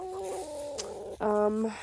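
Chickens in a backyard coop cluck and squawk in short rising calls, one bird giving a louder drawn-out call near the end, close by with no talk.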